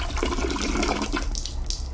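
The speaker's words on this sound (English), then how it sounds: "Wait, can I flush the toilet?" A toilet flushing inside a bathroom in a video game, a steady rushing gush of water lasting a couple of seconds, fairly close and loud with no talking.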